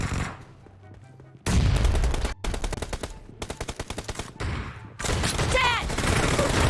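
Gunfire in a shooting video game, with loud bursts of rapid automatic shots and single cracks in quick clusters separated by short gaps, mixed with game effects.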